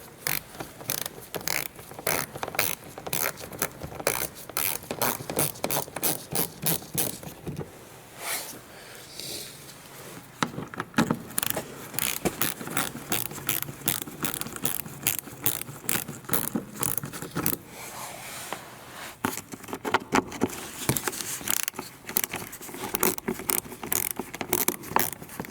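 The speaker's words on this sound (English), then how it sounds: "We are using 10mm socket." A ratchet with a 10mm socket clicks in fast, repeated bursts while removing fasteners from a Toyota RAV4, close and fairly loud, with short pauses between runs.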